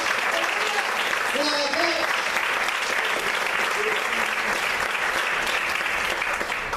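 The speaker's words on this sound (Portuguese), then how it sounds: "Você pode aplaudir e exaltar ao Senhor nessa noite" Congregation applauding loudly and steadily at an evening church service, with voices and tonal vocal shouts rising over the sustained clapping.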